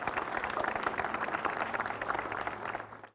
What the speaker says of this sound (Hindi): तो इनका भी जोरदार तालियों से स्वागत कीजिए।